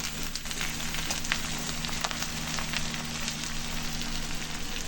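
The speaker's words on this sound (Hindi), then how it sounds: "पत्ता गोभी को थोड़ा फ्राई कर लेंगे, तब ये और अच्छी हो जाएगी।" Steady sizzling fills the air, a constant crackle of cabbage frying in a hot pan with no voices.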